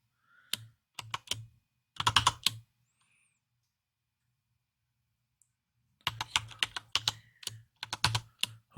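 Bursts of clicky keystrokes on a computer keyboard while a password is entered, two short flurries split by a few seconds of silence, close and with no talking.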